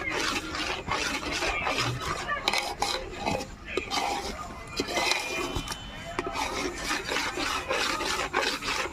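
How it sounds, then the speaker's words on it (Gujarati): A spoon scrapes and stirs continuously through a pan of gravy with chili for a drumstick vegetable curry, making close, steady rasping and clinking sounds with faint voices in the background. "ગ્રેવીની અંદર ભળી જાય એ રીતનું આપણે હલાવી અને મસ્ત મજાનું મિક્સ કરી નાખશું"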